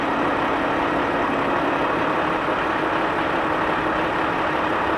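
A HYMIX Mixmaster 2 engine idling steadily and continuously with a low rumble and constant hum, close and even throughout, with no voices.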